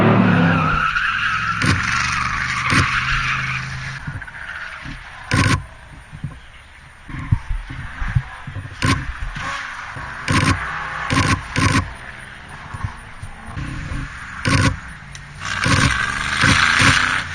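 Race cars at a track day roar past in repeated loud passes with engine revving and brief tire squeals, each car rising and fading as another follows.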